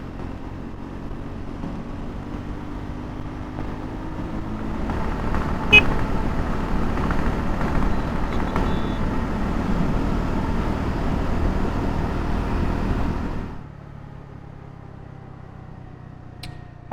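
A Triumph Scrambler 400X motorcycle accelerating on a highway: a steady roar of engine and wind swells and holds for several seconds, then drops away sharply near the end.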